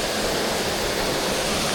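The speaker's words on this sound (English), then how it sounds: "here's the beautiful waterfall" A waterfall near a cleared homeless camp pours in a steady, loud, broadband rush that holds constant with no breaks and no voices.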